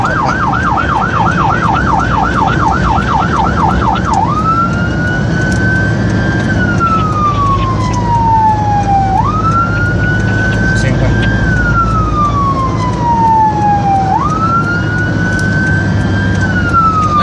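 A loud siren starts with a rapid yelp, then switches to a slow wail rising and falling repeatedly, close by over low traffic rumble.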